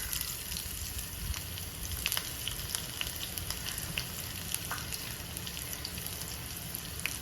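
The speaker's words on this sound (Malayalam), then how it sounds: "നന്നായിട്ട് പൊട്ടിക്കഴിഞ്ഞാൽ 2 കഷ്ണം ചുവന്നുള്ളി അരിഞ്ഞത് ചേർത്ത് കൊടുക്കാം." Chopped shallots fry in hot coconut oil with leftover mustard seeds in a Kerala kitchen, giving a dense, even sizzle with scattered crisp pops throughout, close and steady with no talking.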